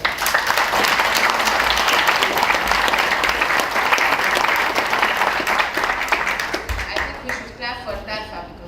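Applause from an audience at a press conference at ADIHEX in Abu Dhabi rolls on loud and full for several seconds, then thins and fades toward the end as a voice begins speaking.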